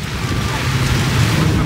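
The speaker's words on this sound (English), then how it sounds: "It's still raining and it's quite windy" Heavy rain and gusting wind at a theme park roar loudly and steadily, a dense wash of downpour with buffeting wind noise across the microphone.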